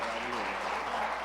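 Brief burst of church congregation applause during a Sunday celebration service, steady dense clapping blended with voices over a short moment.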